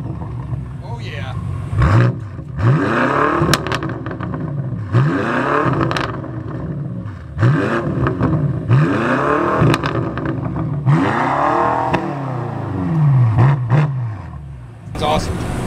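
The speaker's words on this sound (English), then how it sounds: "Rev battle on the M5." A 2018 BMW F90 M5 engine revs hard in repeated roaring bursts, each climbing and falling in pitch, loud and close, with people talking over it.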